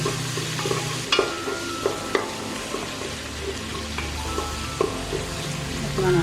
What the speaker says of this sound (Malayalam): അതിനുശേഷം ഇഞ്ചി വെളുത്തുള്ളി മിശ്രിതം അതിനകത്തോട്ട് ഇട്ട് നല്ലതുപോലെ അതിൻ്റെ പച്ച മണമൊന്ന് മാറിയതിന് ശേഷം